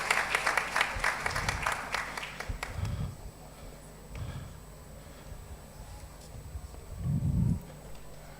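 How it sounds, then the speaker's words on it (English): Conference audience applause at a Nigerian business law event, a burst of many hands clapping that fades after a few seconds, followed by quieter room noise with occasional low thumps. "A round of applause."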